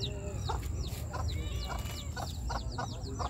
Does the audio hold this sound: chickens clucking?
yes